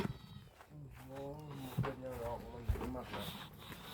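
A cat meows several times up close, with drawn-out wavering cries mixed with a person talking nearby and a few footsteps.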